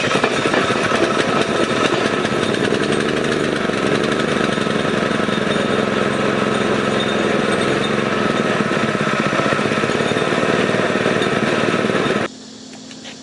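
A small new motor mounted on a Springer bicycle runs continuously after starting, idling roughly with a loud, steady, rattling drone up close, then cuts off abruptly near the end.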